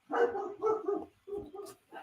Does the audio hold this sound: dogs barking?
yes